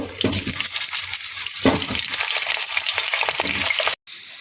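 Mustard oil spitting and frying in a hot wok for a Bengali meat curry, a dense steady sizzle with a few stirring scrapes, close and loud, breaking off suddenly near the end.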